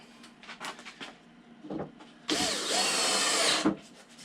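After a few handling clicks and brief whirs, a power drill runs in one sustained high-pitched burst, boring into wood up close.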